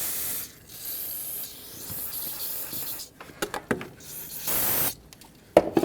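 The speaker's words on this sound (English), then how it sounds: "So grab some brake parts cleaner, spray the bottom of each fuel injector O-ring." Brake parts cleaner hisses from an aerosol can onto the fuel injector O-rings of a 2009-2014 Ford F-150, in a long steady spray, then short bursts with handling clicks, up close.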